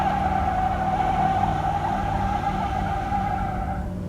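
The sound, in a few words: car accelerating on a test drive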